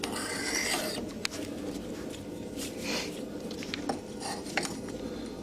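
Metal file working along the edge of a handmade herb chopper knife, a soft continuous rasping and scraping with faint light clinks scattered throughout, close and fairly quiet.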